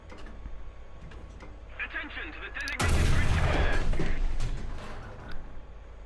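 A Challenger 1 tank gun in War Thunder fires one heavy, close cannon blast partway through, and a loud rumbling roar lingers for over a second before fading back to a quieter hum.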